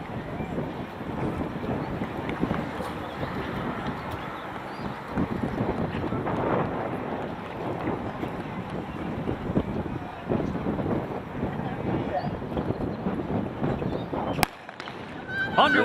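Gusty wind buffets the microphone at an outdoor track stadium during an NCAA Division II track and field championship, producing a continuous low rumble of varying strength beneath an announcer's commentary.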